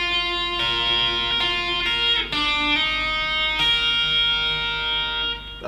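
Electric guitar riff from a song, first part, played as a distorted, effects-laden lead with sustained ringing notes changing in a repeating melodic pattern, close and loud with no talking.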